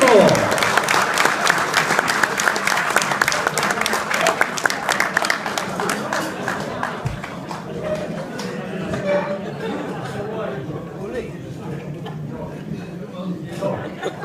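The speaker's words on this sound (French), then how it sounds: "Allez, on les applaudit bien fort." A theatre audience gives loud applause that gradually thins and softens, with scattered chatter and a few voices mixed into the clapping.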